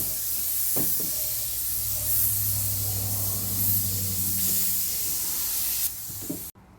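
An aerosol can sprays a light coat of adhesion promoter onto plastic F-150 trim, a close, steady hiss lasting about six seconds with a slight waver before it cuts off.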